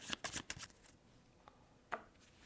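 A deck of cards is shuffled for the Power Vacuum board game, with a quick burst of riffling flutters followed by a couple of separate soft taps, close and quiet.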